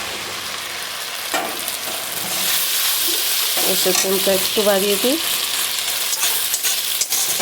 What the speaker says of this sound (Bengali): পেঁয়াজ ভাজা হয়ে গেছে, এখন দিয়ে দেব মশলাটা। আদা, ধনে গুঁড়ো আর কাঁচা লঙ্কা।